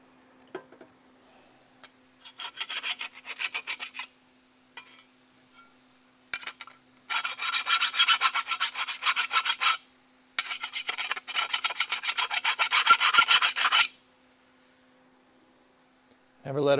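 A hand file rasps across metal to deburr a part during a Dodge Charger crew cab restoration, working in several bursts of steady back-and-forth strokes, close and clear over a low background hum.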